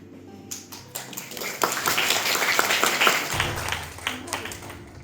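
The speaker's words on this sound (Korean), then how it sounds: "큰 박수와 함께 환영해 주시기 바랍니다" Audience applause at a summer outing event, a burst of clapping that swells after half a second and holds steady and fairly loud, with scattered taps and some background voices.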